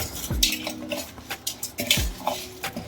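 Mutton head meat is washed with salt and turmeric in a bowl: wet sloshing and rubbing with a few sharp clinks against the bowl, close and moderately loud.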